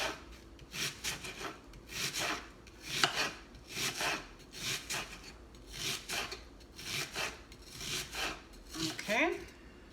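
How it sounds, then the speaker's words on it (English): Knife slicing half an onion into thin half rings on a board, a regular series of close, crisp rasping cuts about once a second, fairly quiet with no talk. "I have half an onion and I cut them in very thin little"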